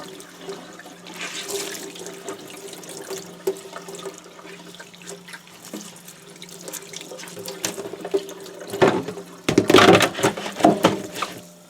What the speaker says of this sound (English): So I'm just going to continue to rinse this.